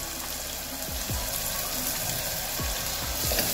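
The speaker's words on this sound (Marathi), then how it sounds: "आता याला छान तळून घेऊ।" Curry leaves crackle and sputter in hot oil, a loud dense sizzle with a few low popping bursts, steady and close, with no talking.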